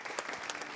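Brief burst of audience applause at a community event in Tizi Ouzou, a dense patter of many hands clapping together, fairly close and even.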